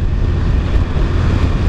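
A Yamaha Tricity three-wheeled scooter, past 10,000 km and freshly serviced with new spark plugs and an oil change, drones steadily and loudly while riding, its engine hum blended with heavy wind rush and no speech.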